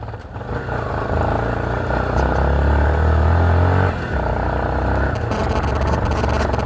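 A motorcycle rides a rough, rain-season off-road track near Palpa with a loud close engine drone that rises in pitch, then drops at a bump and carries on with rattling and clatter from the uneven ground.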